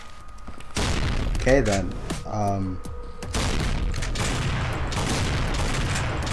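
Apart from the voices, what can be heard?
shotgun fire in a video game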